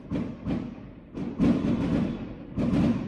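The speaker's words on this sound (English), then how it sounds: "there's the fireworks" Several booming fireworks bursts go off at uneven intervals, each with a sharp crack followed by a rumbling, crackling tail.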